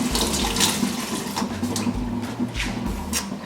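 Tap water runs steadily into a sink while celery is washed under it, a constant close splashing rush with brief louder spatters and small handling knocks, no talking.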